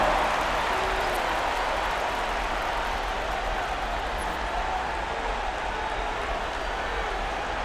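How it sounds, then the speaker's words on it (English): Crowd noise in an NBA 2K26 basketball game fills an arena, a steady, distant roar with applause that runs unbroken and fairly even throughout. "Give him a round of applause."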